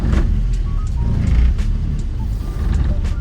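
A VW Passat B4 with a swapped 2.0 AGG engine runs close by as it reverses, a steady low engine drone with faint mechanical clicks and squeaks over it.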